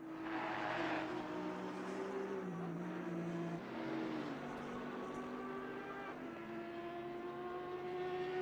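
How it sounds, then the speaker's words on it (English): GT3 race cars in a racing video game roar in a continuous pack, engines droning and shifting pitch as they accelerate and brake, heard faintly and steadily without talk. "Bunch of GT3 cars hammering at it."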